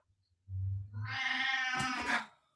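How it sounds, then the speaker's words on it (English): A house cat meows once in a long, drawn-out, whiny call rising and falling, close and fairly clear, preceded by a low indoor hum and quiet background noise. "Oh, the cat's meowing."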